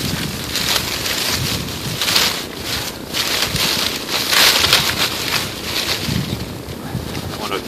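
Wind blows outdoors across an open fire-building spot, buffeting the microphone in rough, uneven gusts that surge and ease over several seconds, with no clear voices.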